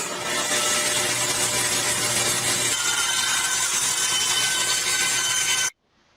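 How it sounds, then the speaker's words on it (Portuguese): A continuous, loud buzzing saw grinds steadily for several seconds, then cuts off abruptly into silence. "Uma serra."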